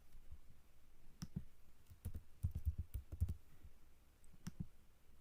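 Someone types JavaScript code on a computer keyboard, a quiet, close run of irregular key clicks in short bursts with brief pauses between.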